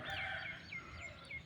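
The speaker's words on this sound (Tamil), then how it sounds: "எவ்வளோ பறவைகளோட சத்தம் நம்ம கேட்டுட்ருக்குது பாருங்கள்" Birds call repeatedly with bright, rising chirps and whistles in a village at morning, peacocks nearby, mixed with faint low fowl-like sounds; steady outdoor ambience with no speech.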